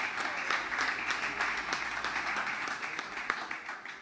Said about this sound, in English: Once again, a big round of applause for our fantastic panelists.